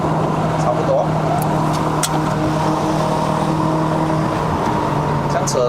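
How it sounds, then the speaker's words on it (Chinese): A Ford Fiesta 1.6L Sport with a six-speed dual-clutch gearbox drives a mountain road in Malaysia, its engine humming steadily at high revs from inside the cabin while someone talks over it throughout. "现在把那个转速拉高，也是一样哦"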